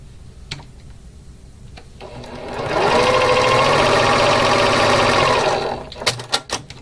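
A sewing machine stitches quilt block rows for a beginner Valentine quilt, running in one steady, loud burst of a few seconds after quiet handling sounds, then stopping into light clicks of fabric being moved.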